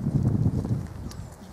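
A buckskin roan Quarter Horse walks with soft, muffled hoof thuds in an uneven rhythm, close by at first and then fading, with no one talking.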